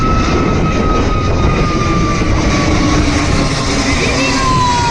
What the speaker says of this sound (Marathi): कसला आवाज आहे बघा त्याचा विमानाचा